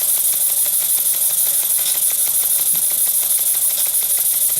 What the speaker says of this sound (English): Very smooth running engine.